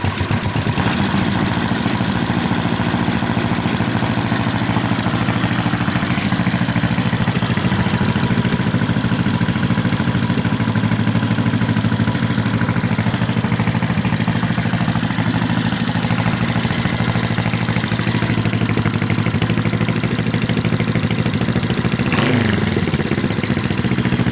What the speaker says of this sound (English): I'm going to push button and we'll see if it starts cold.